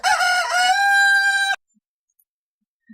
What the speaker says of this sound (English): Then I would hit the rooster button, right?